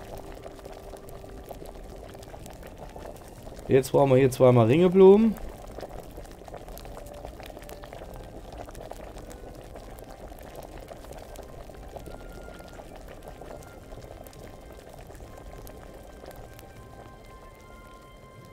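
A potion bubbles steadily in an alchemy cauldron in Kingdom Come: Deliverance, a soft, continuous simmering hiss throughout, briefly overlaid by someone speaking near the start.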